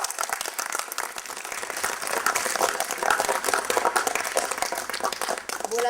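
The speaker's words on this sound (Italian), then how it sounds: "Un applauso al sindaco." Sustained applause from an audience honouring a mayor, a dense steady patter of many hands that swells slightly midway and carries on without talk.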